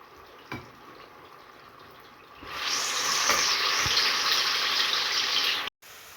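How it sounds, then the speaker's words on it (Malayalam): Chicken marinated with lemon juice drops into hot oil and is lightly fried for butter chicken. A bright, steady sizzle starts abruptly after a quiet moment, holds close and loud, then cuts off just before the end. "ചെറിയ രീതിയിലൊന്ന് വറുത്തെടുക്കാം"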